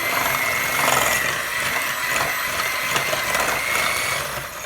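An electric mixer on low speed blending funnel cake batter in a bowl, a steady close mechanical whir with a rattling, grinding texture lasting throughout, loud and without talking.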